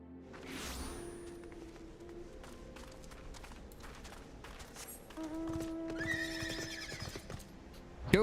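In the Final Fantasy XIV video game, a horse whinnies near the start and hooves clip-clop in a soft rhythm, with more whinnying and game sounds swelling louder toward the end.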